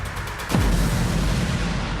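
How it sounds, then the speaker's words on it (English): An Indian Navy warship's gun firing during an attack drill, one heavy boom that settles into a sustained low rumble over loud ambient noise. "Ready to fire sir. Fire!"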